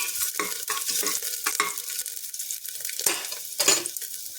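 Chopped garlic and ginger sauté briefly in a hot pan, giving a close, uneven sizzle broken by repeated spatula scrapes and stirring knocks against the metal, no talking.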